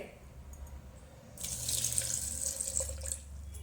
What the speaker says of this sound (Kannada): ಈಗ ಹಾಲು ಹಾಕ್ತೀವಿ ನೋಡ್ರಿ.